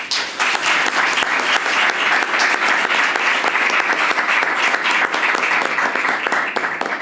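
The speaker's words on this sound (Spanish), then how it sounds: "tener a una actriz como Rita Cortese, para la que pido un aplauso." Sustained audience applause for an actress at a stage event, many hands clapping in a thick, even wash for about seven seconds, holding steady before easing slightly at the end.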